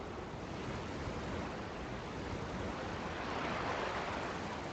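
Steady wind rushes through a World of Warcraft raid zone, a constant broadband blowing with no talk over it.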